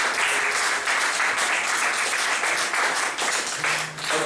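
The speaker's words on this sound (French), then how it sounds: "Allons acclamer Jésus." A church congregation breaks into loud, sustained applause and cheering to acclaim Jesus, with continuous dense clapping throughout.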